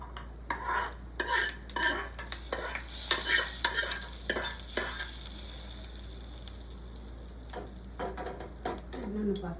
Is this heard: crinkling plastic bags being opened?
no